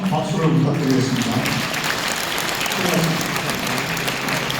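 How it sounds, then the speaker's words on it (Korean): Applause from an audience at a public humanities lecture in Goyang, Korea, following the mayor's speech; a steady, dense wash of clapping fills the whole stretch at even loudness, with voices mixed in. "다시 한번 큰 박수를 부탁드리겠습니다."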